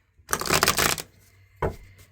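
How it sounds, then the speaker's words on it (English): Tarot cards riffled in a quick shuffle, a dense papery burst lasting under a second, followed by a short second flutter as the deck is squared, close and clear with no talk. "I shuffled these cards."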